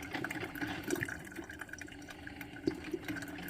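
Hot coffee trickles and gurgles steadily into the glass pot of a GEVI programmable 10-cup grind-and-brew coffee maker, a close, continuous liquid stream.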